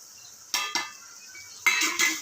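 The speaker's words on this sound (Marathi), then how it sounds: "मसाले चांगले भाजून घ्यायचे तेलामध्ये" Metal spatula clinks and scrapes against a pan as spices roast in oil with browned onion for Pune-style matki misal; four sharp strikes in two pairs over a faint steady hiss, no talking.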